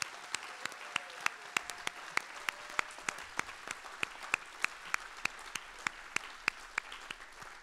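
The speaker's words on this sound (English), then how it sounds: "let's give them a great big round of applause" Concert audience applauding steadily, a continuous wash of clapping with sharp individual claps cutting through evenly across the stretch, moderately distant and fairly soft, with no talk over it.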